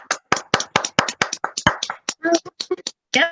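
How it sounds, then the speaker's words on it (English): A few people clap over an online meeting connection, producing sharp, uneven hand claps close to the microphone that come in irregular bursts and then stop. "Please unmute yourselves for a big round of applause for Chris."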